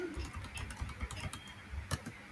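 Close, fast typing on a computer keyboard while writing Java code, a steady patter of light clicking keystrokes with a few sharper taps, heard alone without talk.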